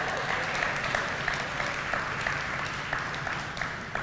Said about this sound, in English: Oh, somebody ought to clap on that one.